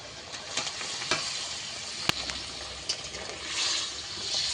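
Egg curry bubbles in a pan with a steady close sizzle and soft liquid popping, a few sharp utensil clicks and stirs breaking through, no voices.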